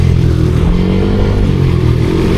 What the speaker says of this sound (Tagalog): Okay na ang motor, buhay na ulit. Tumatakbo na.